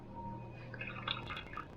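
Water pours from a measuring cup into the reservoir of a Ladybug Tekno 2350 vapor steam cleaner, a faint, steady trickle with light splashing and bubbling, quiet and close.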